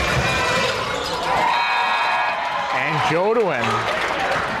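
Fans at a junior boys basketball game making noise to distract a free throw shooter, a loud roar of crowd voices, whistles and shouting with a voice talking over it.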